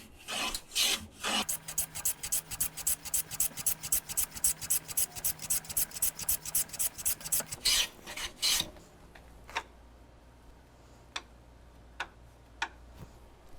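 Rapid back-and-forth hand sawing or rasping through wood while shaping the angled bevels of a tapered sliding dovetail joint, a long steady rhythmic run of strokes that stops, followed by a few scattered taps and knocks in a quiet workshop.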